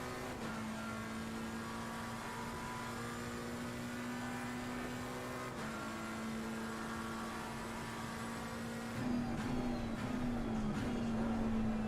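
Bentley race car in Assetto Corsa Competizione at Monza, Imola or Nürburgring, its engine droning steadily with a sustained tone that dips briefly and then swells louder as the pass is made, alongside other cars.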